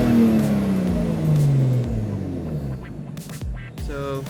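A car engine runs steadily, its tone gliding slowly downward, with a few short sharp sounds near the end.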